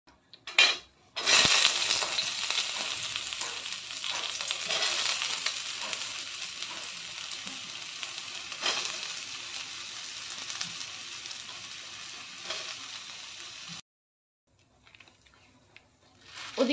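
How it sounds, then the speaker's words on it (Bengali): Soya chunks fry in oil in a pan with a loud, continuous sizzle. Faint utensil clinks come near the start, and the frying cuts out abruptly near the end. "এদিকে দেখো সোয়াবিনটা অলরেডি কিন্তু ভাজা হচ্ছে"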